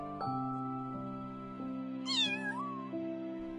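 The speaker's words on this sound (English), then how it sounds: ""Meow," answered the kitten." A kitten gives a single rising-and-falling meow over a steady background tone, clear and close, with nothing else around it.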